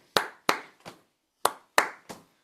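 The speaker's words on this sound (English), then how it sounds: "we're gonna go clap, clap down, clap, clap down, clap, clap down" An audience at a business talk claps in a clap-clap-down pattern, two sharp claps and a softer third beat, repeated twice with a pause between groups, crisp and close.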